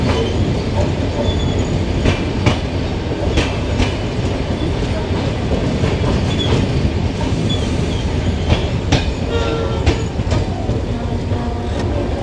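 A stone-carrying freight train rolls through Bhanga railway station, its steady loud rumble of wagons and wheels running throughout with sharp clanks and squeals over the top.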